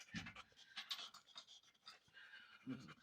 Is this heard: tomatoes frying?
no